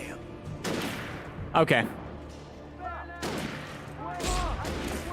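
Enemy gunfire in the video game Alan Wake, several sharp loud shots in bursts, one especially close and heavy, with a person talking between the volleys.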